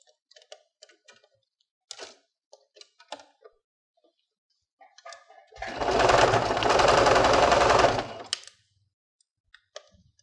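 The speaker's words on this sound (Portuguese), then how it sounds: "eu vou passar a costura de novo aqui em cima dessa costura" A sewing machine stitches over an existing seam on fabric for a kitchen craft piece. A close, loud rapid mechanical chatter lasts about two and a half seconds, framed by quiet clicks and handling taps before and after.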